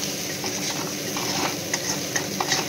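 Boiled potatoes stirred in hot oil, sizzling steadily with soft scraping strokes of a spoon, close and alone.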